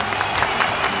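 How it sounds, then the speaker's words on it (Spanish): A studio audience applauds a guest on a Spanish television debate show, a dense steady wash of many hands clapping without a break, loud and close. "Por favor, un fuerte aplauso para el Súper de Incógnito."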